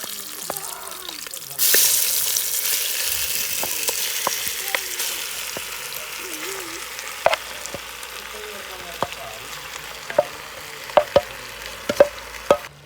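Lamb meat hits a curry pot over a charcoal fire with a loud burst of sizzling, then fries steadily while a spoon scrapes and knocks against the pot in sharp, irregular clicks.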